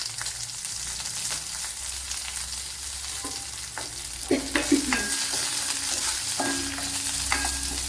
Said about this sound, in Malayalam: ഇതിലേക്ക് ഇനി കറി ലീവ്സ് ഇട്ട് കൊടുക്കാം.